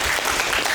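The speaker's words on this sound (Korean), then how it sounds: "박수 한번 쳐주시고." A classroom audience claps after a student presentation in a university HCI lecture, a brief dense patter of many hands that stays steady and fairly loud throughout with no voices on top.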